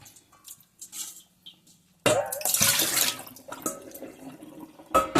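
Vegetables for an Isan-style pickle are rinsed in water, with quiet handling at first, then a sudden close rush of splashing and sloshing water followed by intermittent drips and splashes.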